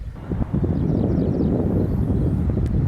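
Wind blows at a river safari point where coracles lie moored, a continuous low buffeting rush across the microphone with a few faint distant high tones. No one speaks.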